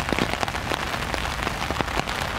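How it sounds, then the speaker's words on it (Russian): Heavy rain falls steadily on surfaces outdoors, a dense continuous hiss dotted with sharp, irregular drops and splats, close and fairly loud with no voices. "довольно сильный дождь идет."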